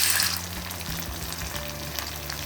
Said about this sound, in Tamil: இப்போ நம்ம மசாலா பரட்டி வச்சுருக்க இறாலை போட்டுருங்க.